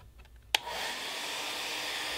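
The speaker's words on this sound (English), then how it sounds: "Take either a blow dryer or a heat gun and heat each edge for 30 seconds." A blow dryer clicks on and runs with a steady, even whoosh, used to heat the edges of Delrin or UHMW plastic pieces during bonding; the airflow stays constant after a sharp switch-on.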